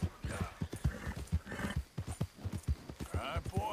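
Horse hooves in the video game Red Dead Redemption 2 clip-clop in a brisk, steady rhythm close by, with a faint whinny near the end.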